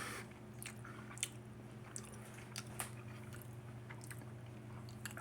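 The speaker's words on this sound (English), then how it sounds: "See, it's like a little crunch, just barely crunchy." Someone chewing on barely crunchy homemade tacos, close to the mic: soft, quiet bites and squishy mastication with small crunchy crackles scattered through a few seconds.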